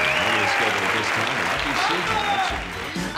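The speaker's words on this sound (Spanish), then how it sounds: "Fuerte aplauso para el ídolo del programa." A studio audience at a late-night comedy talk show breaks into loud, sustained clapping that fills the whole stretch, with people talking over it.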